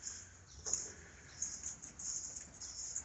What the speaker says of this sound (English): That's birds on the roof.